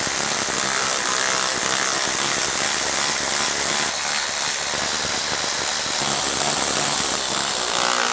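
A power tool runs steadily and loudly, snugging down driveshaft flange bolts on a 2007-2017 Ford Expedition, its whine continuous and close with no pauses or voices.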